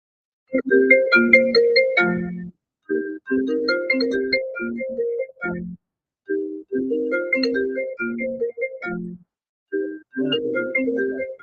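A phone rings with a loud, melodic ringtone, the same bright tonal phrase repeating several times with short silent gaps between rounds.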